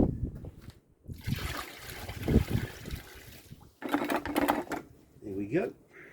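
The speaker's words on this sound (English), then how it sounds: "I'm going to get a slight more water" Water poured into a bucket for cleaning beer kegs: a rushing, splashy pour runs for a few seconds, stops, then comes back in a shorter burst, with a voice briefly heard near the end.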